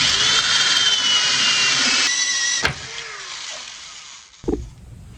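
The motor of a Hatbox Ghost animatronic runs with a steady high whine for over two seconds. The whine then shifts and fades, with a sharp click midway and a thump near the end.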